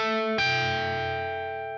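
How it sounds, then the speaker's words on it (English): Electric guitar played dry through a Mesa amp with no effects: a sustained distorted note followed by a sharper struck chord that rings out and slowly decays, close and alone. "So this is just the simple guitar tone without any of the effects"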